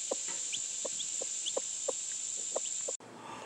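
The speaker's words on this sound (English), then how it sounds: "watch these baby chickens come out one by one" Baby chickens hatching one by one make a string of short, soft peeps at a fairly steady pace over a constant thin high whine, ending abruptly after about three seconds.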